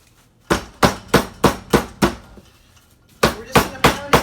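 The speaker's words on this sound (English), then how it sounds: "I don't happen to have a meat mallet, but a good sturdy pot works just as well" A sturdy pot pounds chicken flat on a cutting board, giving sharp, loud thuds: six evenly spaced blows, a short pause, then five more.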